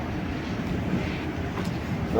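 Onboard a Kollam–Thiruvananthapuram passenger train while it runs, a steady low rumble and rattle fill the carriage, with a voice talking over it.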